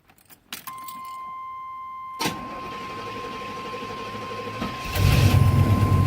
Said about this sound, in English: when you start this thing up, I'm going to start up. Let's hope she starts.